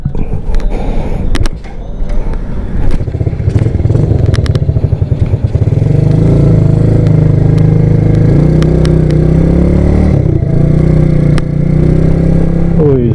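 A Yamaha Lagenda motorcycle fitted with a spec 57 engine is ridden close by, the engine pulsing unevenly at first and then settling into a loud, steady drone with slight shifts in pitch.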